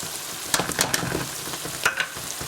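Mint and coriander leaves being stirred into a roasted mutton curry in a hot pan, with a steady sizzle and scattered scraping and clinking strokes of the spoon, close and fairly loud.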